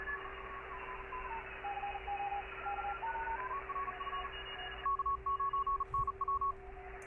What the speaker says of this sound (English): good old Morse code. People don't get to hear it in the wild much.